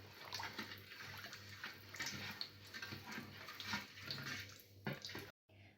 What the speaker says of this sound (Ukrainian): Заливаю холодним розсолом.